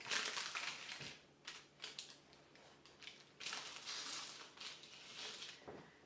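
Knife slicing through a baked, cooled old-fashioned gingerbread cake to portion it into big squares, giving soft crumbly crunching and scraping strokes in close, irregular bursts with short pauses between cuts.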